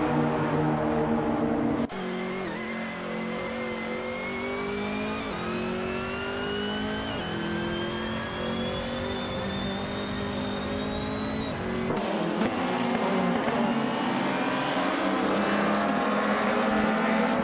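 Racing engines in a video game race led by a 2010 SEAT, a steady close high-pitched drone with pitch climbing through gear changes, shifting abruptly as another car's engine note takes over.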